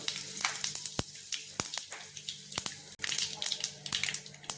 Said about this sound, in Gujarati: तो राई फूटवा मांडी है।